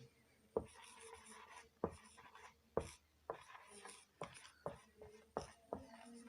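Chalk or marker strokes on a classroom board come as a quick series of sharp taps and short scratching scrapes, close and distinct, roughly one to two per second, with faint voice in the background.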